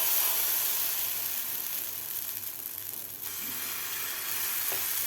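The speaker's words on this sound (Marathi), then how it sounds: "सगळीकडे तेल लावून घेतलेलं आहे। आता यामध्ये आपल्याला हे बॅटर घालून घ्यायचं आहे," Moong dal batter poured into an oiled pan, giving a close, constant hiss of sizzling oil with a faint low hum and a slight change in texture partway through.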